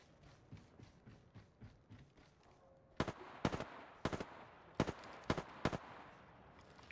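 Sharp gunfire cracks in Apex Legends: a quieter patter of distant shots, then a series of loud, close bursts spaced about half a second apart.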